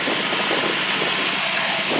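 A steady, noisy 1967 Ford short box truck engine idles close by, a constant rough whir with no speech.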